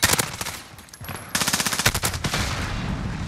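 Bursts of automatic gunfire from the Call of Duty: Modern Warfare video game in a Search and Destroy match, loud and rapid, with a short lull before dense firing resumes.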